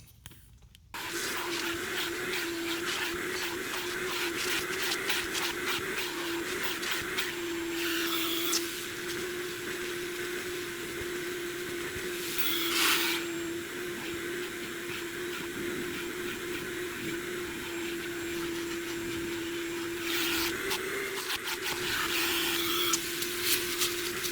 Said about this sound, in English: That's the vacuum of my choice at this time.